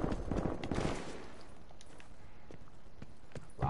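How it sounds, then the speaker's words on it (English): Dense, crackling bursts of rapid gunfire from a game, loudest at the start and then continuing as a busy rattling barrage. "A lot of gunfire."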